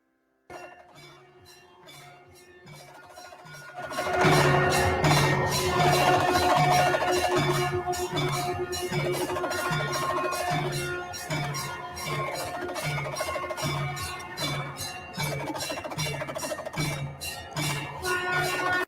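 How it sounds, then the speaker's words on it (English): A small hand drum rattles in rapid, steady beats, rising suddenly in loudness and continuing as a dense rhythmic pattern over a faint tonal drone. "Now I'm going to play the sound of Damru."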